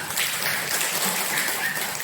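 A classroom group applauds together, giving dense, bright, continuous clapping that stays fairly even across the short stretch.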